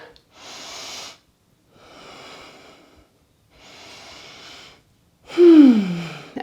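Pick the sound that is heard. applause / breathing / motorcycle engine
breathing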